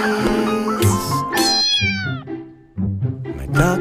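A cat meowing several times in a row, loud and close, with drawn-out rising and falling cries and a short pause before another meow.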